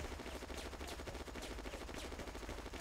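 Gunfire in the WW2 Online video game, set in close-quarters infantry combat. Dense, rapid, overlapping shots and machine-gun bursts crackle continuously and loudly, with no pauses and no voices.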